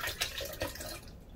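Tap water pours for washing cassava in a home kitchen, a brief close splashing stream that runs for about a second and then thins out.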